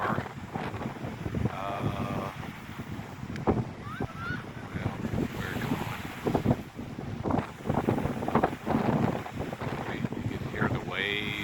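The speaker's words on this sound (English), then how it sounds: "You can hear the waves." Waves wash onto a windy beach with strong wind buffeting the microphone, a continuous rushing roar under scattered bird calls and some indistinct talk.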